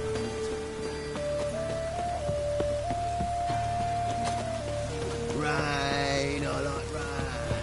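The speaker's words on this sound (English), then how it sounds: "Rain, I like rain." Steady rain falls in The Witcher 3 video game, a continuous hiss of drops heard under sustained background music, without pause throughout.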